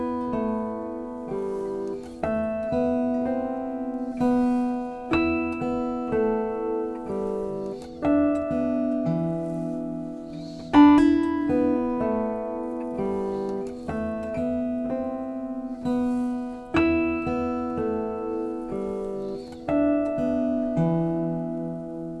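Bell-like artificial harmonics ring out on an acoustic guitar above a lower plucked melody played with the thumb and middle finger, a clean, close, steady piece with no talking.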